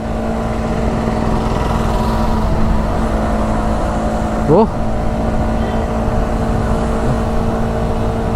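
A TVS XL 100 moped engine hums steadily while riding through Kochi traffic, with a brief horn-like blip midway and someone speaking over the ride.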